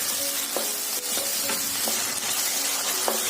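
Tomatoes fry with golden onions in a pan for a dry cabbage dish, a dense close sizzle with occasional spatula scrapes and pops throughout.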